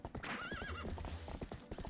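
Epona, a horse in The Legend of Zelda: Twilight Princess HD, whinnies loudly while galloping, her rapid hoofbeats clattering close.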